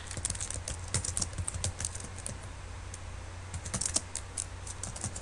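Typing on a computer keyboard while entering text into a PowerPoint text box, a steady stream of light, close key clicks with brief pauses over a low background hum.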